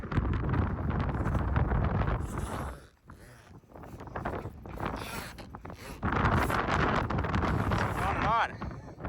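Strong wind roars and buffets the microphone aboard a catamaran sailing off Guadeloupe, loud gusts dipping briefly before surging back, with boat noise underneath.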